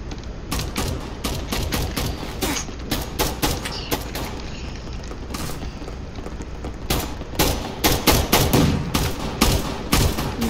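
Rapid game gunfire in Gunfight Arena, including a starter AK-12 rifle, crackling in dense bursts of repeated shots throughout, with a heavier volley near the end and no talking.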